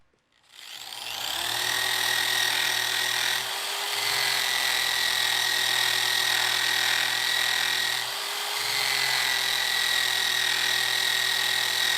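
A drill spins a rough cleaning wheel against a part clamped in a vise, a loud, steady high-pitched whine and grinding hiss held for several seconds with two brief dips in load, alone without talk.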